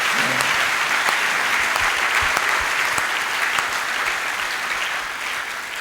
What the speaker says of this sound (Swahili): Vous pouvez acclamer un peu le Seigneur.